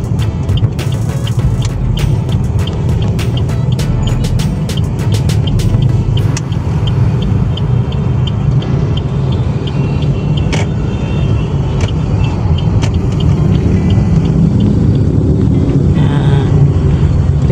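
Busy Jakarta street traffic with cars and a Transjakarta bus, a loud, continuous engine rumble passing close by, with wind buffeting the microphone and scattered clicks and rattles early on.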